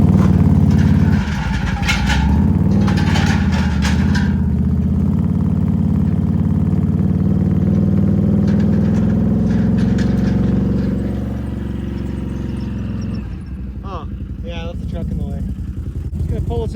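An ATV engine runs loud and close with a steady rumble as it is driven out of a shop, easing off near the end, while people talk over it.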